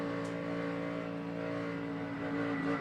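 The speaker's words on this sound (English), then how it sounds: "You can hear him starting to really pedal the throttle." A NASCAR stock car engine at the Southern 500 as the driver pedals the throttle, a steady droning, harmonic roar from a distance with slight swells in pitch, no voices over it.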